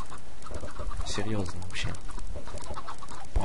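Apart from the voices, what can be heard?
chickens clucking in the video game Minecraft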